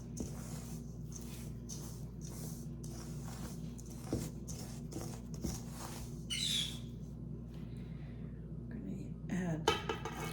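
A spoon mixes baking ingredients for health crunch bread in a bowl, with soft repeated scrapes and light clinks over a steady background hum, fairly quiet and close.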